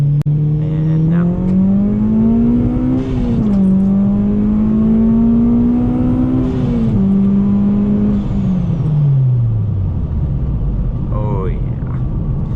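A modified Honda Civic pulls hard in second gear, its engine note climbing steadily and loud from start to finish, briefly dipping at shifts or lifts before rising again, with faint background sounds underneath.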